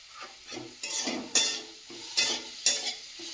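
Lote fish frying in a pan with turmeric and Kashmiri chili powder, a soft sizzle broken by several scraping stirs of a spatula at irregular intervals, close and fairly quiet.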